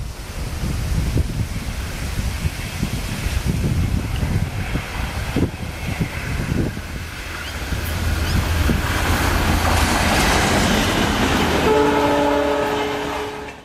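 The Yesvantpur - Jaipur Suvidha Express passes close by with loud rolling wheels and rumbling wagons, building to a heavier roar, then its horn sounds near the end.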